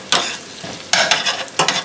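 Butter being stirred in a pan to start a roux for a meatball stew, with soft scraping bursts at the start, middle and end over a faint sizzle, no talking.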